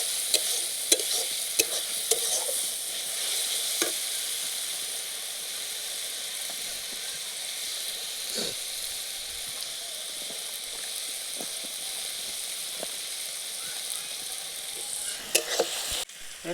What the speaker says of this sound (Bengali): তো এরপর আদা রসুনটি কিছুক্ষণ ভেজে নিচ্ছি।